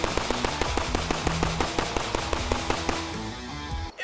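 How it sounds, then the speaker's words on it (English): A rapid series of sharp cracking bangs in regular succession, like repeated gunfire aimed at a table, fairly loud and continuous for several seconds before ending in a short drop. "I'm gonna shoot this table in half"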